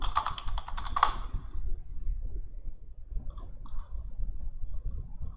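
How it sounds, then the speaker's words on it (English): Quick clicks of computer keys typing a password, a short burst of close keystrokes at the start that fades into quiet room noise with a few faint taps afterward. "Now type the password."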